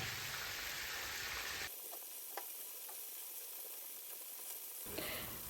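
Chicken pieces fry in oil for chicken pulao, giving a soft, continuous sizzle with a few faint crackles and ticks. The sizzle is louder at the start and quieter through the middle.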